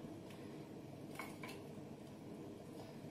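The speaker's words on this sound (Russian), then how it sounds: "когда наливаешь половником в банку, все равно что-то разливается" Homemade adjika being ladled into a jar that stands on a plate, faint clinks of the ladle against glass and a soft pouring wash, quiet and close with a low steady background.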